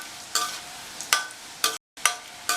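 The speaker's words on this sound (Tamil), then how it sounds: "இந்த மாதிரி கிண்டி கிண்டி விட்டுக்கலாம்." Wheat biscuits fry in oil, giving a low continuous sizzle. Sharp bursts come at regular intervals as they are stirred and turned, and there is one brief gap of silence. No voices are heard.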